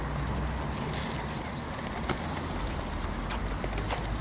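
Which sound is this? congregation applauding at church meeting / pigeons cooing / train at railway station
pigeons cooing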